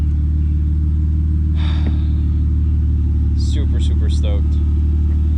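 A BMW E36 Cabriolet idles steadily while warming up, a loud, deep, unbroken rumble close by, with brief bits of talk over it.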